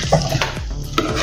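A spoon stirs spinach and eggplant dal in a pot, giving a few scraping, sloshing strokes with a light sizzle underneath, close and fairly loud over a short stretch.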